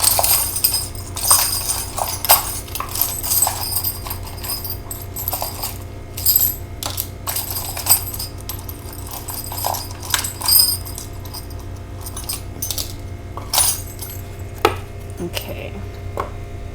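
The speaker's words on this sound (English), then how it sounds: "I just shuffle around until I feel like it's time to take out some charms" Small hard objects clatter and jingle repeatedly in loose, irregular bursts, like trinkets being shuffled by hand at close range, with no talking.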